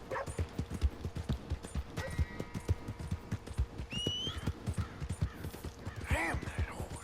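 Horse hooves clip-clopping in a steady trotting rhythm in the Red Dead Redemption 2 video game, with a brief whinny and some other game sounds mixed in, no talking.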